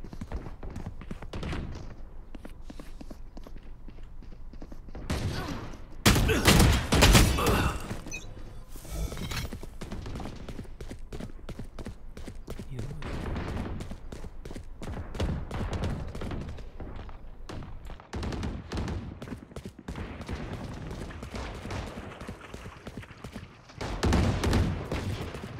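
Video game gunfire rings out on a practice shooting range in rapid bursts and clusters, with louder volleys standing out above a steady mechanical background.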